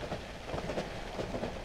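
A rumbling train in the horror game Cry of Fear, rolling along with a steady low drone and faint rhythmic clacks of wheels on rail joints, continuous and moderately loud throughout.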